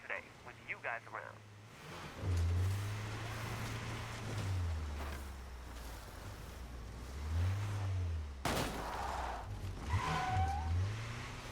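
A video game car drives and pulls up, its engine droning and rising and falling in pitch with a brief tire-like screech, while a person talks over much of it.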